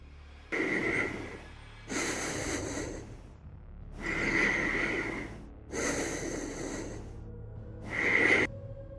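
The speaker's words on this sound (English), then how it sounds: "Just then I heard breathing behind me," Slow, heavy breaths up close, five rasping inhales and exhales in an even rhythm with quiet pauses between them.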